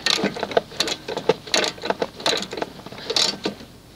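A socket wrench tightens the spark plug on a Honda HRX217HYA lawn mower, giving a rapid run of close, crisp ratcheting clicks in short bursts.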